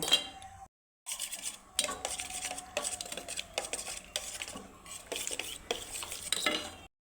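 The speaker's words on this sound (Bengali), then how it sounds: "এখন এটাকে আমি মিক্স করে নেব" Egg and tomato mixture being stirred in a pan, a spoon scraping and clinking against the metal in repeated close strokes with a faint sizzle, after a brief pause near the start.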